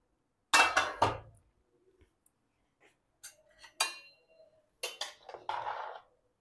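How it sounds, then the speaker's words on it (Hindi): Sindhi biryani served out of a cooking pot into a dish: a few separate clinks and scrapes of a spoon against metal and crockery, close and sharp, with quiet gaps between them and no talking. "अब आइए हम इसे एक डिश में निकाल लेते हैं।"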